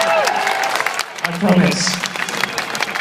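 A large crowd at Silverstone in 2013 applauds and cheers in a steady, dense wash of noise while someone speaks over it close to the microphone.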